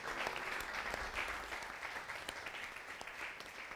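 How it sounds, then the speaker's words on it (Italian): An auditorium audience applauds steadily, a dense and continuous wash of clapping from many hands heard from a distance, fairly quiet and unbroken. "L'applauso del nostro auditorium."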